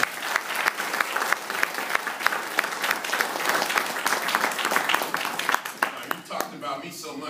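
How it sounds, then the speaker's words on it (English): An evening lecture audience gives a steady round of applause, dense clapping sustained for several seconds before fading at the end. "Please give him another big round of applause."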